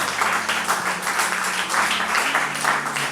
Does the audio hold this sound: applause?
yes